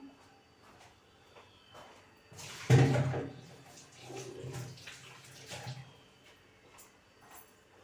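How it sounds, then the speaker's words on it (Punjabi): Water sloshes and splashes as silver jewellery is rinsed by hand, with a brief louder burst of swirling water near the middle, then quieter dabbling. "ਤੇ ਮੈਂ ਹੋਰ ਸਾਫ਼ ਪਾਣੀ ਚ ਨੂੰ ਧੋਣੀ ਆ"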